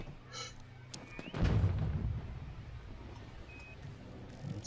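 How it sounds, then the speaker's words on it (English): In the video game The Signal From Tolva, a distant boom of gunfire rolls in as a heavy, low thud with a long rumbling tail, preceded by a few faint sharp cracks and followed by quieter background noise. "Gunfire, I can hear."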